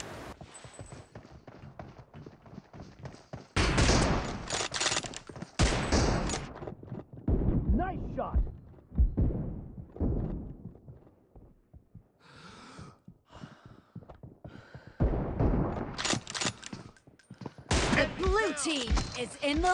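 M24 sniper rifle shots in BGMI team deathmatch on an iPad 9th generation: loud booming reports in several bursts with rattling game effects, while someone talks excitedly and breathes heavily throughout.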